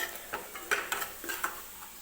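Semolina being stirred and roasted in ghee in a pan: a spoon scrapes and clicks against the metal in several short strokes, each stroke carrying a faint sizzle, close and fairly quiet with no voice.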